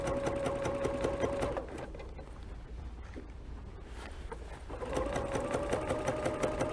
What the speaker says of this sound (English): just continue to sew